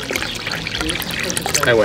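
Water poured into a pot of lamb for birria, a steady trickling stream heard up close beneath a man's short spoken remark.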